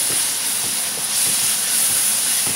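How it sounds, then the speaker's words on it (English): Ginger garlic paste sizzles in a pan while cooking for a chicken curry, giving a steady, close hiss with faint soft clicks and no talking. "I'm adding in the ginger garlic paste and cook it"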